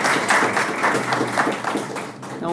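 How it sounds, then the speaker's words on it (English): Audience in a lecture hall at a mathematics talk applauds the speakers, a short, steady round of clapping that fades toward the end. "Let us thank the speakers. A round of applause."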